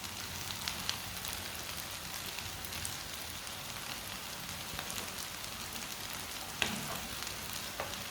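Food frying in a pan over a medium flame, both sides browned, gives a soft continuous sizzle and crackle with a few small pops, fairly quiet and steady throughout.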